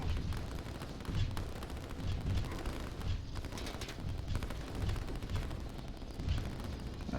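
Artillery and tank gunfire in the Line War strategy video game, a dense, continuous barrage of overlapping booms and rapid shots rolling steadily throughout with no pauses.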